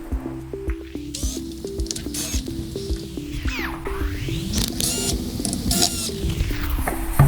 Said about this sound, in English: To remove the kickstand, there are 4 screws, 2 at the top and 2 at the bottom.